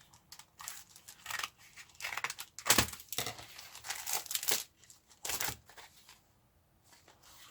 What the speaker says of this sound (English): Good time as any to open this package up.